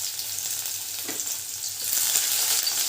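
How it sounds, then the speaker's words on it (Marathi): Garlic frying in hot oil, a steady bright sizzle that swells slightly louder toward the end, with a faint stir partway through and no speech. "तेलामध्ये आपण आता हे लसूण टाकणार आहोत"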